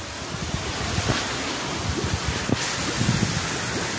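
Water running steadily through the Manor gram panchayat village filter plant, a continuous broadband rush with small splashy bursts, fairly loud and close, no talking over it.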